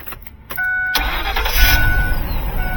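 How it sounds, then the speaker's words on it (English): A Ford E-250 van engine cranks and catches, then settles into a steady running rumble, heard up close from the cab with no talking. "You have to turn the vehicle all the way on."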